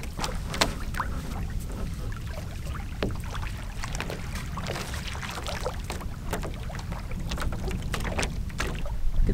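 Steady splashing and dripping of water as a double paddle dips in rhythmic strokes, close by, with soft wind noise and no talking.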